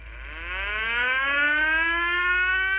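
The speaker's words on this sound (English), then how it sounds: "tested his fire siren" A fire engine siren wails upward in pitch, swelling from moderate to loud and holding a steady high tone, heard alone without voices.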